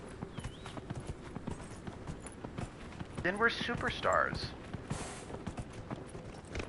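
A horse in Dragon Age: Inquisition trots across the Exalted Plains, its hooves clip-clopping in a steady rhythm at moderate volume while someone talks briefly over it.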